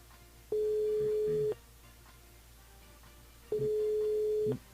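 Outgoing phone call placed live on a French-language radio show: two long, steady ringback tones, each about a second, separated by a pause, heard over a faint hum of background noise.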